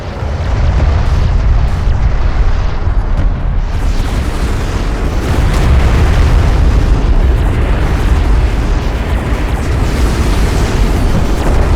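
A missile barrage pounds the ground in the Deserts of Kharak strategy game, producing a continuous, loud rumbling roar of overlapping explosions with no distinct gaps.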